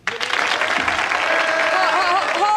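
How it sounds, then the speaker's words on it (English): A television sketch comedy studio audience breaks into loud, sustained applause mixed with crowd noise and a few whoops, with voices faintly under it. "Hold the applause till I finish"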